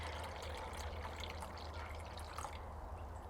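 Cream pours from a container into a mixing bowl in a home kitchen, a soft continuous liquid trickle and dribble with faint splashy drips, steady and fairly quiet throughout.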